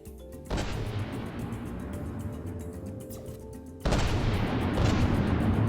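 Mortar CRAM cannon fire in the video game From the Depths: two heavy booming blasts a few seconds apart, each followed by a sustained low rumbling roar that stays loud, the second burst slightly louder than the first.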